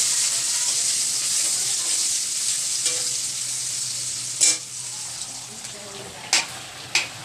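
Onions fry in a pan with a steady, loud sizzling hiss, punctuated by a few sharp stirring knocks toward the end.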